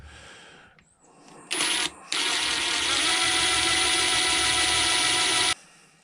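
A power drill boring a hole beside a wooden Tahiti gaff cutter, starting with a brief whir, pausing, then running steadily and loud for several seconds before stopping abruptly, with no talking.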